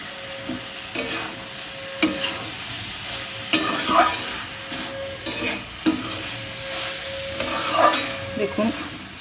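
Ash gourd curry with mustard and poppy seed frying in a pan, sizzling steadily while a utensil scrapes and stirs in repeated sharp strokes, close and moderately loud with no talking.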